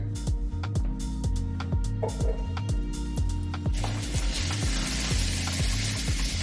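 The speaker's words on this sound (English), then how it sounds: "So I think the oil is hot. I'm gonna go ahead and add the potatoes in." Potatoes cook in hot oil in a pan, a soft sizzle that swells to a broader, steady hiss partway through, over a heavy rhythmic music beat and occasional clicks.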